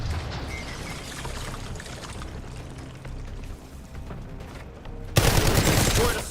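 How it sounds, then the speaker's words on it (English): Hand cannon gunfire in a shooter video game, loud bursts of shots over a dense noisy battle mix, with a sharp louder blast near the end. "Using hand cannon."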